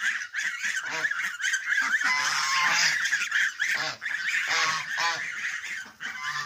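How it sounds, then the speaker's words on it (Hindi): Male and female ducks honk and call loudly at feeding time, a dense overlapping flock of nasal calls that goes on continuously close by. "ये देखे ये डक्स हैं, नर और मादा, ये भी अपना हिस्सा मांग रही हैं।"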